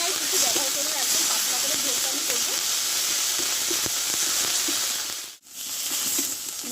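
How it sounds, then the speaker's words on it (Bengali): Ground spice paste for a fish curry fries in a pan with a continuous close hiss and crackle, cut by a short near-silent gap toward the end. "এখানে এই বাটা মশলাটা আমি দিয়ে দেবো দিয়ে ভালোভাবে একটু কষে নেবো"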